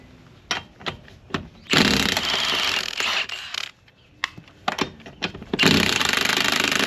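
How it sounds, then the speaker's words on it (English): An impact gun removing the wheel lug nuts on a 2013 Kia Soul with a 21mm socket, sounding as several loud buzzing rattling bursts of one to two seconds each between short clicks and taps, with no talking. "I'm going to use the impact gun."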